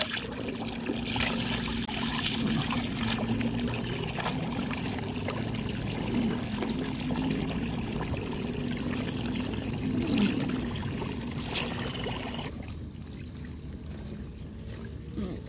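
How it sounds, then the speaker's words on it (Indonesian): Durian seeds are washed under running water, a steady trickling, splashing stream with faint handling noises that fades to a quieter hush near the end. "Jadi ini kita cuci dulu ya."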